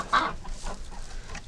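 A hen clucks once sharply up close, followed by softer scattered clucks in a quiet chicken coop.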